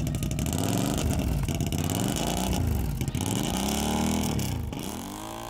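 A loud, nearby modified quad engine, big-bore 1100cc with a double RJWC muffler, revs repeatedly in rising and falling sweeps, its deep raspy exhaust roaring before easing off at the end.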